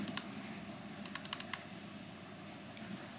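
Quiet, close keystrokes on a computer keyboard come in a brief burst of several taps with a few scattered clicks, over a faint room hum and no speech.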